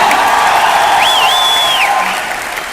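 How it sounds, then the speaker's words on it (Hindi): An audience at a celebration event applauds loudly and steadily for a couple of seconds, with a short whistle over the clapping before it begins to fade. "एक बार जोरदार तालियां."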